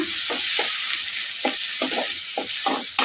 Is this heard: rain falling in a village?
no